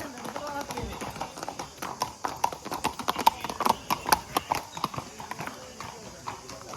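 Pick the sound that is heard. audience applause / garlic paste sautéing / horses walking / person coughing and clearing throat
horses walking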